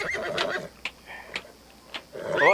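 Horse neighs and whinnies as a horse-drawn kalesa carriage arrives, with a few sharp clip-clop hoof knocks between the calls; moderately loud and close.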